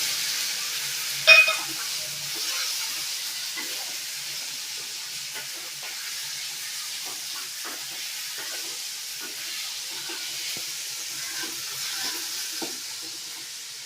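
Tomatoes go into the frying baingan bharta masala and get stirred, with a sharp clatter as they drop in and then a soft, steady sizzle and light scraping, without any talk.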